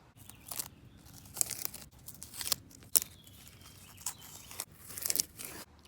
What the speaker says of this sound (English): Now we get to peel off the tape.